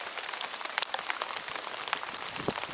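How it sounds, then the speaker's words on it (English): Rain and sleet pelt steadily on a mountain trail in the Wind River Range near New Fork Lake, a dense crackling patter of drops close by with scattered sharper hits, heard alone without voices. "We've got a rain and sleet storm right now that we're dealing with."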